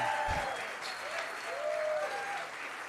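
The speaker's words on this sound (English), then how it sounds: "Give her a round of applause." Audience at the Axios Visionarios 2024 event applauds steadily, a continuous wash of clapping throughout, with a faint tone or voice sliding over it.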